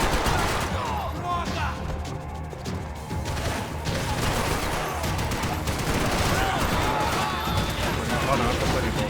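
Dense, continuous gunfire in the video game Max Payne 3, bursts of shots and crashing impacts layered over each other throughout, loud and busy, with a voice talking intermittently.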